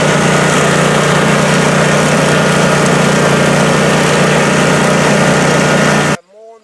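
A 1965 tractor engine with an electronic ignition upgrade runs on fresh fuel after stale gas was drained, giving a loud, steady, close drone that cuts off abruptly just before the end.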